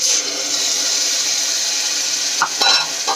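Tomato puree hits hot oil in a pan with peanut and sesame powder, giving a steady, close, bright sizzle that holds evenly, with a couple of short clatters near the end.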